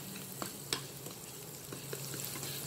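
Shrimp are tossed with fried garlic in an oily pan, giving a soft, steady sizzle with occasional light utensil clinks, fairly quiet throughout.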